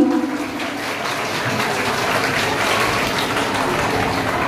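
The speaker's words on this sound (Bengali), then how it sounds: "সবাই একটি করতালিতে মুখরিত হোক অঙ্গন।" An audience at a girls' school event on zero waste gives continuous applause, a steady wash of clapping that holds even and fairly loud from start to finish.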